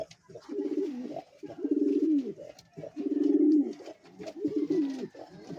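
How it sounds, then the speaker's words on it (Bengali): Fancy pigeons coo in four repeated, rolling phrases at close range, each a soft throaty burble separated by short pauses, with no talking over them. "আমার কাছে যে কটা পাখি আছে খুব সুন্দর"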